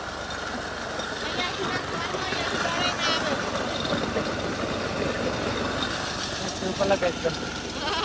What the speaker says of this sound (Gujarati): ટ્રેક્ટર ઉપર ઘંટી ચાલુ છે.